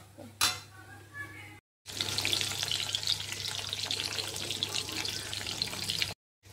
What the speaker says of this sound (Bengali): দেখো মাছ ভাজার পর পেঁয়াজ বাটাটা দিয়ে দিয়েছি।